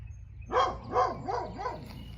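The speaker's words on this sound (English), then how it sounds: "What are you barking at?" A dog barks four times in quick succession, a rising-falling yap each time, moderately close against a quiet low hum.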